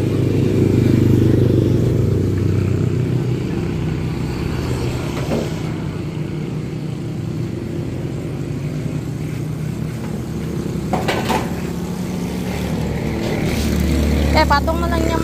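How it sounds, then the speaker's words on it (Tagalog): Motorcycle tricycle rumbling along a road, its engine droning loud and near at the start, fading through the middle and swelling again at the end, with people talking faintly in the background. "One tricycle nila yun."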